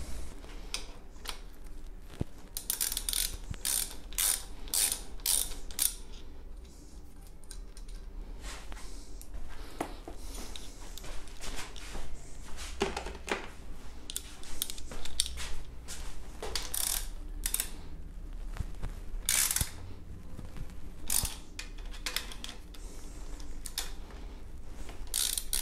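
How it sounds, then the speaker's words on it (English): An improvised crank puller is screwed onto a bicycle square taper crank, giving steady metallic ratcheting clicks and grinding turns that repeat close up for a long stretch with no talking. "Now we'll try to make this axle be pulled from this side, turning it into a crank puller."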